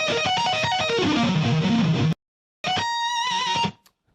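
Electric guitar with distortion plays a fast sweep-picked arpeggio at full speed, a quick flurry of descending and rising notes, a sudden half-second silence, then a sustained ringing note that stops abruptly.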